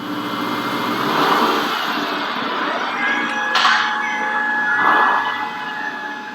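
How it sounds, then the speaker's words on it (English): Racing car engine sound effect for an animated track scene, a loud continuous mechanical whine that shifts pitch with sharp tonal sweeps and brief surges, heard alone without voices. "I've got the car racing in track number 2."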